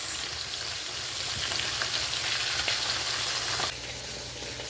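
Catfish frying in a pan gives off a steady, dense sizzle and crackle of hot oil, close and continuous, which eases slightly near the end, with no voices over it.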